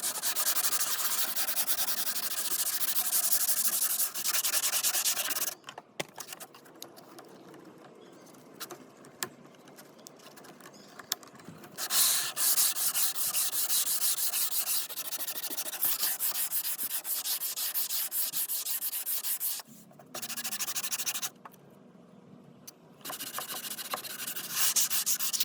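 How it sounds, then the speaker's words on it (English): Sandpaper rubbing back and forth over wood veneer on a Singer Model 27 sewing machine, using 60 and 320 grit, in steady close scratchy strokes broken by short pauses, with no talking. "I have sanded this all down. I use 60 grit and then 320 grit."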